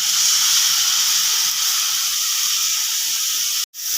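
Fresh pigeon pea beans hit a hot frying pan with grated coconut, giving a loud, steady broadband sizzle and hiss that runs continuously, broken by a brief dropout near the end.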